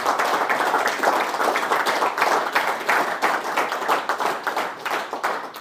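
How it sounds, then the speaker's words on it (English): Steady audience applause for university varsity team members and recent graduates at an athletics legacy night, dense and continuous with no pauses, filling the room for several seconds. "applause."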